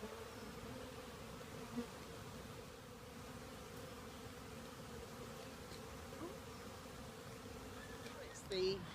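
A steady, low drone of many honey bees buzzing together, continuous and fairly quiet, with an occasional closer bee passing.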